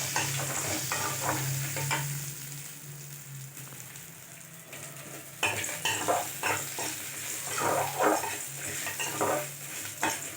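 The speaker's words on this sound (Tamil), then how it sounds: "எல்லாம் போட்டு வறுக்கணுங்க நல்லா" Dried red chillies and spices dry-roast in a pan for sundaikkai vathal kara kuzhambu, with a steady crackling sizzle and repeated close scraping and stirring strokes. The stirring grows louder halfway through.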